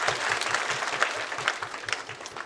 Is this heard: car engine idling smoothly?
no